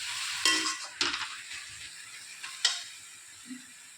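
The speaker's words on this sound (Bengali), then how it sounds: "শাক বেশ কিছুক্ষণ নেড়ে চেড়ে এই যে কমে এসেছে" Water spinach greens are stirred in a pan with a little water: soft, close sizzling hiss with a few scraping stirs spread over a few seconds, no voices.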